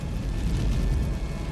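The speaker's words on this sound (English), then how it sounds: "I don't think you can outrun an explosion like that." A sci-fi horror film explosion gives a deep, sustained rumbling roar with a heavy low-end boom that stays loud and constant, with no voices over it.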